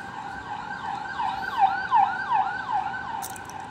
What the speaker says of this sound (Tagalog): Aga pa nagwawangwang. Ambulance.